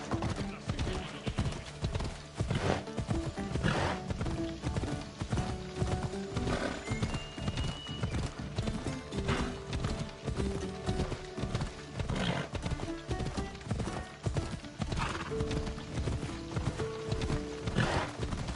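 Rhythmic hoofbeats of a horse in Assassin's Creed Odyssey clatter steadily in a galloping pattern, with occasional whinnies and neighs, under a busy game soundscape with faint voices.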